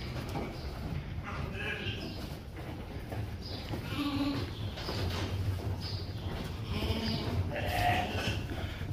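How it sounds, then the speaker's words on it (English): Lambs bleating on a mountain sheep farm during a gathering of the flock, repeated overlapping bleats from several animals near and far, with people talking among them. "We're gathering the lambs now."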